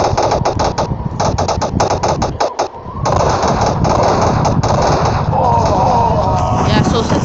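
Rapid automatic gunfire from a fast-reloading gun with 60-round magazines in a video game, a dense, loud stream of sharp bursts that barely pauses, with a brief dip before the firing resumes and continues steadily.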